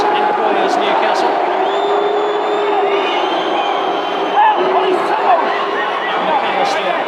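Grimsby football fans jeer from the stands as an opposing player takes a corner during a Worthington Cup match against Liverpool: a loud, sustained crowd roar with a commentator speaking over it throughout.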